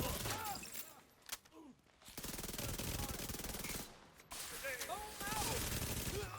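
Weapon fire in Tom Clancy's The Division 2, with dense rapid bursts of automatic gunfire and a few short pauses, heard faintly at low level with someone talking over it.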